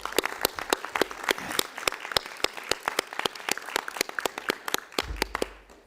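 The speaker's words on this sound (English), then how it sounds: "So please join me in an applause for both of them" Applause from a meeting audience at a scientific advisory committee gathering, a steady patter of many hands clapping for about five seconds before tapering off, with no one speaking over it.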